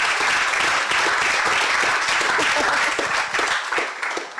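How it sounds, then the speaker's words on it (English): A conference crowd at a panel discussion on innovation and startup growth claps loudly and continuously in a thick, even wash of applause that eases slightly toward the end. "I just want each and every one of you to give yourselves a clap"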